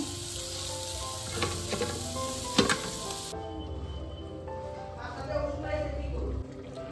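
Pieces of rohu fish fry in hot oil with a loud, dense sizzle and a few sharp spatters and stirring knocks; the hiss dulls partway through and continues more softly, with a voice talking over it.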